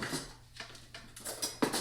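A spoon scrapes and clinks against a dish of cold BLT dip made with tomato and lettuce, several soft scraping strokes and light taps close by, fairly quiet.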